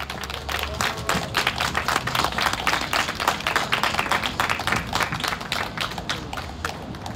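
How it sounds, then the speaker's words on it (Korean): Dense, steady applause from a large audience fills the whole stretch at a memorial ceremony for victims of the Aricell factory disaster, sustained and fairly loud with no clear break. "어느 때보다도 뜨거운 박수 부탁드리겠습니다"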